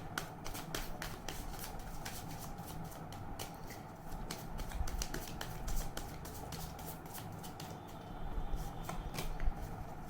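Tarot cards are shuffled by hand before a pick-a-card reading, giving a steady, close run of soft riffling and flicking that lasts throughout at a moderate level, with no talking.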